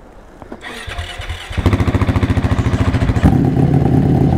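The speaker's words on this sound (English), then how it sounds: "I'll give you the full effect of this Ducati starting up." A Ducati motorcycle engine cranks with a rapid rhythmic chug from the starter, then catches and settles into a loud, close, rough idle.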